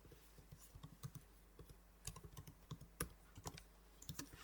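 Quick, light clicks of a computer keyboard being typed on for a Packet Tracer router setup, irregular bursts of keystrokes close to the microphone and fairly quiet, with no talking.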